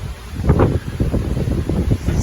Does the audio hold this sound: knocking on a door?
no